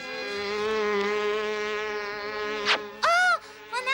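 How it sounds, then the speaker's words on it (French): A cartoon fly buzzes with a steady, nasal, high-pitched drone that holds near and loud for nearly three seconds, then gives way to short squeaky cartoon effects and scuffles. "Notre dernier espoir, c'est de capturer cette horrible mouche."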